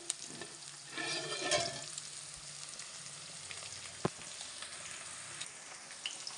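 Eggs boil in a pot on the stove while egg curry is being cooked. A steady bubbling, sizzling hiss carries throughout, with a short louder burst of stirring or clatter near the start and one sharp tap later. No one speaks.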